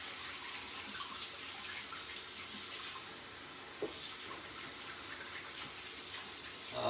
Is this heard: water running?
yes